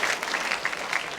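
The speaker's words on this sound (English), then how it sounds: "9 people clapping?" Small audience of about nine people clapping, a brief patter of sparse, close applause.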